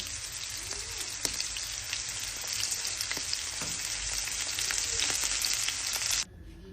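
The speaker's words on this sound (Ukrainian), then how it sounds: "і будемо смажити на сковорідці." Steady crackling sizzle of liver frying in a hot pan, dense popping and spitting throughout, close by, then abruptly quieter at the end.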